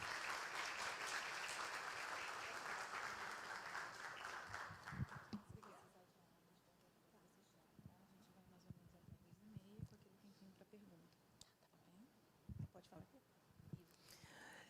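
An audience at a history course lecture gives a loud burst of sustained applause for a speaker, which fades out after about six seconds, leaving a quieter room with scattered thumps and rustles.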